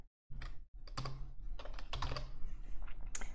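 A computer keyboard being typed on while editing in Vim, a quick irregular burst of crisp key clicks, close and fairly quiet.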